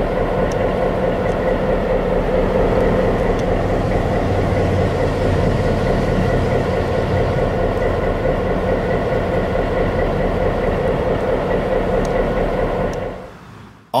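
An SD9 diesel locomotive hauling a work train at Eugene, with a loud steady engine drone and rail rumble that stays constant, then cuts off abruptly at the end.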